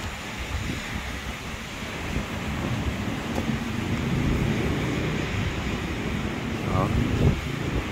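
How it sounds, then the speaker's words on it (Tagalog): Steady roaring wind rumbles and gusts against the microphone, with low buffeting throughout and a few faint background noises. "So ganyan kaalakas pang hangin dito guys."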